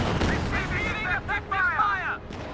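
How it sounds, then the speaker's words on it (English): A point-blank Katyusha rocket barrage in a video game: a dense, continuous roar of blasts and rumbling fire, with whistling, sweeping tones rising and falling over it. "That point blank Katyusha barrage."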